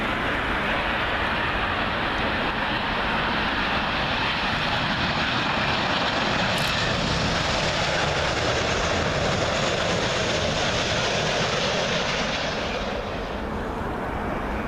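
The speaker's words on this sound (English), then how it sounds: "we're going to start with American Airlines 777" An American Airlines Boeing 777 from Phoenix arrives at Heathrow on runway 27L. Its jet engines make a loud, steady roar that holds through the whole pass and fades slightly at the end, with no talk.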